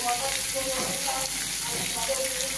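Pumpkin pieces frying in hilsa fish oil with salt, green chilli and turmeric, giving a steady close crackling sizzle throughout, with someone talking over it.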